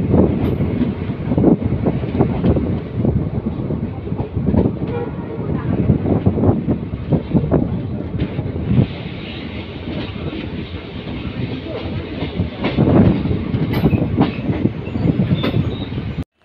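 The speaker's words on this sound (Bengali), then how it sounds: "আমাদের ট্রেন দেওয়ানহাট রেলওয়ে স্টেশনের দিকে আর কি যাচ্ছে" Train travelling toward Dewanhat railway station, heard from on board as a loud continuous rumble with rhythmic wheel clatter and wind buffeting, steady throughout.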